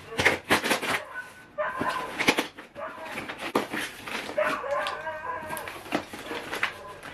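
Nearby, a dog makes a burst of excited yips, whimpers and barks in quick irregular bursts at close range.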